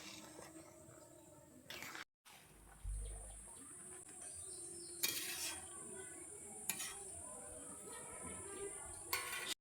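Vegetable pulao is stirred in a pot with a spoon, giving faint scraping and clinking against the metal, a few sharper knocks and a soft background hiss.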